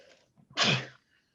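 A single loud, sharp human sneeze bursts out close by after a brief inhaled buildup, standing alone with no talking over it.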